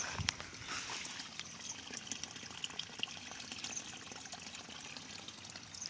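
Steady rushing water, a continuous splashing wash like a small waterfall, fairly faint and unbroken, with no talk.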